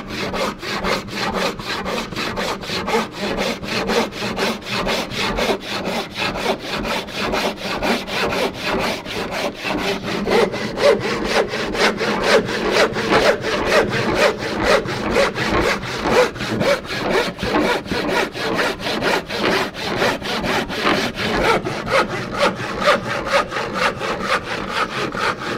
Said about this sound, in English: when I'm working at the bench with a panel saw, I'll definitely start up at the back teeth and then go into using longer strokes